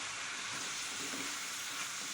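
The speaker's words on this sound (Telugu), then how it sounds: "టమాటా ముక్కల్ని అండ్ వాటిని కలుపుకోవాలండి" Tomato pieces sizzle steadily in a frying pan while being stirred, giving a constant, even hiss at low volume with no voices over it.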